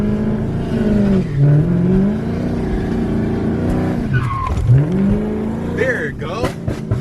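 A Dodge SRT slides around corners in a quiet neighborhood, engine revving and falling as tires squeal and skid in repeated bursts, close and loud, with some voices under the noise.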